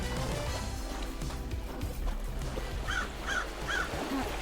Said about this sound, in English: We got a crow like right outside our den, just yelling for some reason.